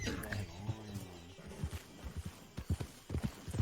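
Hooves of a scrawny free starter horse clip-clopping in the Red Dead Redemption 2 game, a brisk uneven walking rhythm of soft thuds, heard beneath people chatting.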